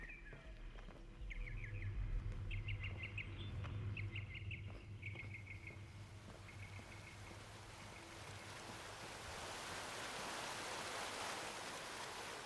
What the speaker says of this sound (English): I like the use of bird call.